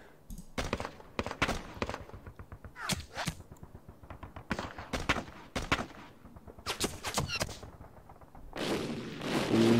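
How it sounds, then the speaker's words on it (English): Artillery fire in the wargame Panzer Campaigns Stalingrad '42 sounds as a series of sharp, loud bursts and booming volleys in uneven clusters, separated by short quiet gaps, with a heavier rumbling blast at the end. "hit artillery"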